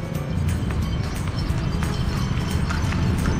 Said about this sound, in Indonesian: Ini ada yang naik kuda.